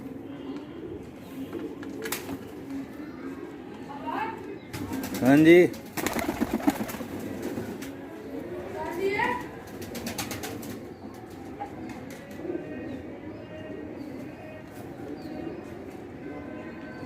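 Pigeons of a 35 breed, with chicks, coo softly and intermittently amid background noise, with a burst of wing flapping near the middle and someone speaking briefly.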